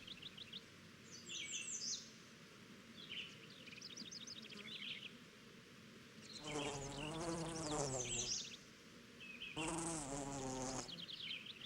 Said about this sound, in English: bees can be found in any nearby garden collecting nectar and pollen from flowers